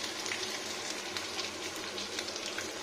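Cauliflower fries in oil with ginger paste and turmeric powder, giving a steady close sizzle and crackle that runs unbroken for a few seconds with no talking over it.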